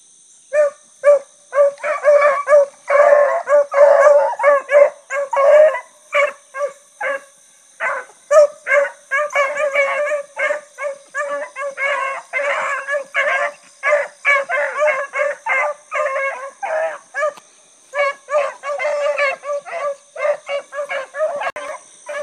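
Rabbit hunting dogs in a pen bark and bay continuously, a dense chorus of overlapping yelps and howls close by with no talk.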